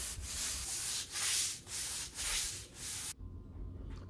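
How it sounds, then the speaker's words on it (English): A damp hundred-year-old basement wall scrubbed with a brush and cleaning vinegar, giving five rhythmic, loud rasping strokes that end abruptly, leaving only faint room noise. "It's going to give it a good old scrub."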